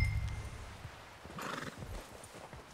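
Horse hooves clip-clop at a walking pace in Red Dead Redemption 2, a steady quiet rhythm with a brief whinny partway through and faint game ambience.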